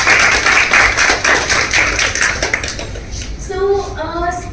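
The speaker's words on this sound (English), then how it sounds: "a huge round of applause for everyone who participated" Applause from a small audience at a youth poetry workshop on climate change, a dense patter of claps that thins out toward the end as a voice rises over it.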